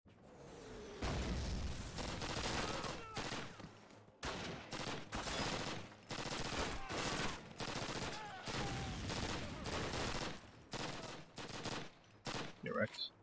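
Dense, sustained gunfire in the Soviet campaign of Call of Duty 1: rapid automatic bursts and booming shots run almost without pause, loud and close. A few brief gaps break the barrage, and voices may sit faintly underneath.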